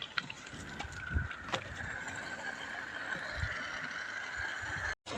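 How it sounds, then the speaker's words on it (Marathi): Water flows and sloshes through a farm irrigation pipe, a faint, steady rushing with occasional soft gurgles and knocks and a brief dropout near the end. "आवाज येतोय तुम्हाला पाण्याचा"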